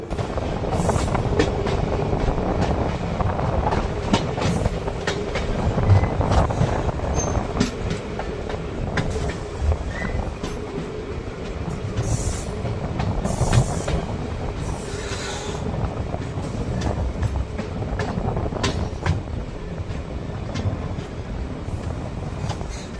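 A Salem to Cuddalore Port DEMU train runs along the line, heard from on board as a steady loud rumble with rhythmic clickety-clack of wheels over rail joints and occasional squeals, without talk.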